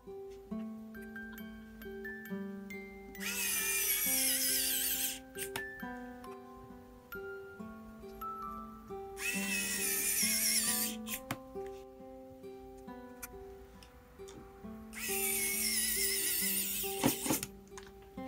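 A WOWSTICK 1F+ electric screwdriver drives small screws on a Nintendo Switch. It sounds as three separate hissing, whirring bursts of about two seconds each, over steady background music.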